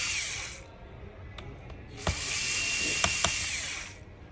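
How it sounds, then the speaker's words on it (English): Screws being removed from the motherboard of an HP 14-cm0119au laptop with a small power driver: two long whirring bursts separated by a pause, with a few sharp metallic clicks, close up. "You need to take out all the screws on the board."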